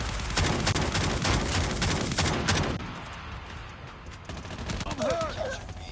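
Rapid, loud blasts from the Echo shotgun in Call of Duty Mobile, a dense run of repeated shots over roughly three seconds before the firing thins into quieter game ambience, with a voice talking briefly near the end.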